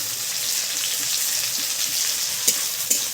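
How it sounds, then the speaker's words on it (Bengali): Onions sizzle steadily in a pan for an egg curry, a dense even crackle with a couple of sharp clicks near the end, close and alone without any voices. "পেঁয়াজটা একটু সামান্য একটু লাল লাল করে ভেজে নেবো"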